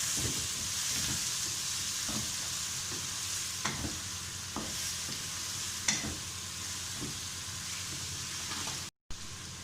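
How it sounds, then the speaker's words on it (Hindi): Bitter gourd and meat curry sizzling and frying in a pan as milk is poured in, a steady dense hiss with soft stirring clicks and occasional sharper scrapes throughout. "अब हम इसमें दूध डाल लेते हैं।"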